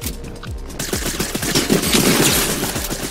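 Rapid bursts of gunfire in Fortnite, loud and close, with a fast repeating rattle of shots that thickens into a dense volley partway through.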